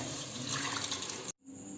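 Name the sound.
pouring cooked lima beans with stock into pan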